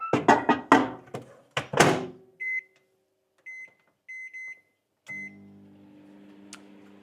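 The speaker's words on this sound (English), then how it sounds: "I'm going to pop these into the microwave for 5 minutes." A kitchen microwave oven heating food for a Christmas dinner: several loud door thunks, then short button beeps, and finally a steady low hum as it starts running.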